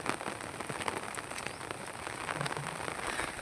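Unseasonal rain falls steadily on surfaces near the overflowing Rangoli river, a dense, even hiss with scattered droplet patter throughout and no voices.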